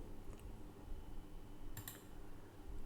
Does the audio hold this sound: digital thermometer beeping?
no